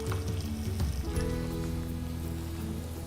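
A tadka of cumin, freshly slit green chilies and a dried red chili sizzles steadily in hot ghee, a dense crackling fry close by with no talk.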